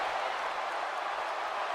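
Steady roar of an arena crowd cheering in the wrestling game WWE 2K18, a dense, unbroken wash of noise at constant loudness throughout.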